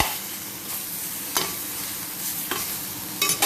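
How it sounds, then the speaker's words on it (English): Spare ribs fry in a pan as chili is added, giving a steady close sizzle broken by a few sharp scraping stirs. "Now it's done frying the both sides, so I'm going to add chili."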